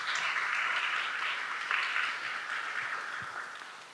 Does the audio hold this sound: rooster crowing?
no